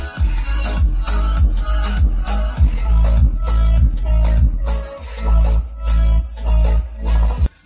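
Bass-heavy music with a thumping beat plays loudly through a 5.1 power amplifier on a Ganesh Audio board driving Arcox speakers and a subwoofer, dense and continuous with no speech over it.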